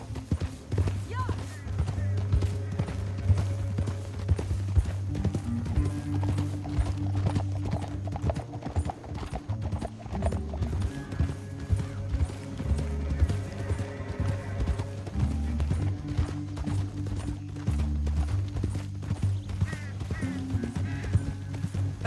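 Horses gallop in Red Dead Redemption 2, a steady rhythm of hoofbeats running throughout, with occasional whinnies and low music or ambience underneath.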